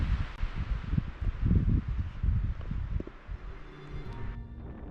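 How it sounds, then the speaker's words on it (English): Strong gusting wind roars through trees near the tree line on a mountain hike, a steady, fluctuating rush of rustling leaves and branches close by, with no voices. "The wind is immediately violent upon our entrance into its domain."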